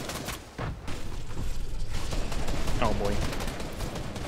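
Rapid bursts of pistol and other gunfire in Fortnite, sharp repeated cracks packed closely together over a few seconds, with a player's excited voice speaking over them.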